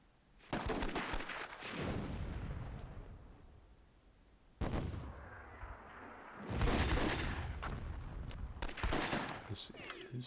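Cannons fire in the Myth II: Soulblighter game as a few sharp, booming blasts with long decaying rumbles, separated by brief lulls, followed by a denser burst of impacts near the end.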